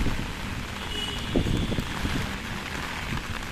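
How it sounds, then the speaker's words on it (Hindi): Steady rain falls outdoors in a monsoon season garden with moderate wind, a continuous dense patter with gusty rushing noise and a few louder drips. "बस सिर्फ बारिश ही झेलनी पड़ रही है और हवा चल रही है अच्छी"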